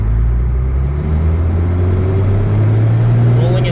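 Twin-turbo Cummins diesel truck pulling hard from a rolling start at about 10 mph, a loud, close, steady low engine roar that climbs slightly in pitch as it accelerates.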